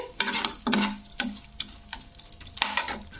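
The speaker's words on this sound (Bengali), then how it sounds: "তো লবণটা দিয়ে একটু নাড়াচাড়া করে দিতে হবে" A spatula stirs tomato masala with salt in a frying pan, making about six sharp scraping strokes over a soft sizzle, close and clear with no talk.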